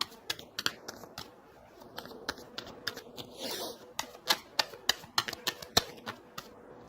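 Tarot cards are shuffled and drawn in a quick run of sharp, close clicks and snaps, with one brief riffling rush midway.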